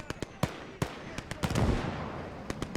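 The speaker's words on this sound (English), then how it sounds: "there's another mortar hitting us" Mortar rounds explode in the World War II game Gates of Hell, a series of sharp cracking blasts and one heavier rumbling impact in the middle, close and loud amid scattered battlefield noise.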